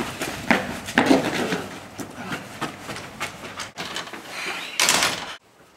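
A bus door sliding and closing amid clattering street noise and movement, ending in a firm thud followed by sudden quiet.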